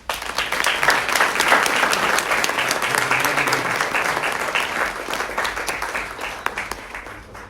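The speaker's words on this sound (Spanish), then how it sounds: "Un aplauso." A church congregation breaks into applause, dense loud clapping from many hands that swells at once and then slowly thins out over several seconds.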